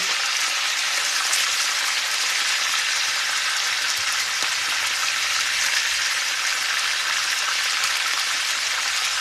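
Pork chops fry in a pan with a loud, steady sizzle that holds evenly throughout, dense and close with no talking.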